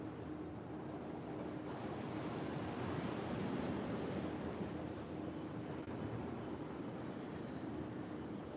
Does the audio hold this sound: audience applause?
no